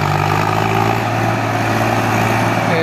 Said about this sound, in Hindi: ये देखो ट्रैक्टर भागा।